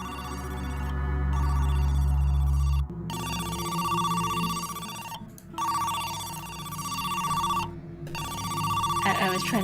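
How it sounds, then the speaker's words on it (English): A phone rings in the video game Who's Lila, its loud electronic tone repeating in several long bursts separated by short gaps, accompanied by a low hum early on. "Phone ringing."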